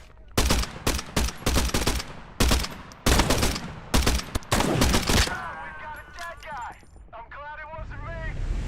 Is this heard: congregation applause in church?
no